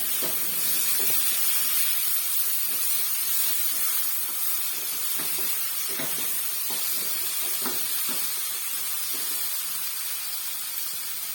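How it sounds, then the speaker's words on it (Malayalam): Tomatoes and curry leaves sauté in a hot pan for a fish curry, giving a steady soft hiss with scattered light crackles and spoon clicks throughout. "തക്കാളി ഒരു ഹാഫ് ആവുന്ന വരുന്നത് നന്നായിട്ടൊന്നുകൂടി വഴറ്റി എടുക്കാം"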